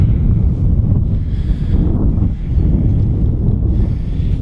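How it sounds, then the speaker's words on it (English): Steady, loud wind buffeting the microphone, a continuous low rumble and roar with brief dips, no voices. "it's really windy"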